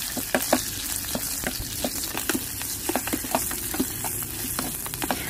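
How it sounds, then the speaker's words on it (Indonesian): Onion stir-fries in hot oil in an electric pot: a steady close sizzle broken by quick, regular scraping strokes of a stirring utensil. "Lalu kita oseng-oseng."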